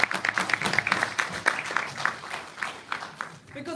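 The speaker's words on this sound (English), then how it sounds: "we need to give you a round of applause" Audience applause at the opening of a rural research day in Stellenbosch, a steady patter of many hands clapping that gradually thins out over a few seconds, with some talk in the room.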